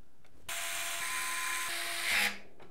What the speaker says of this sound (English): we'll secure it into place with 9 of the motherboard screws from the case accessory box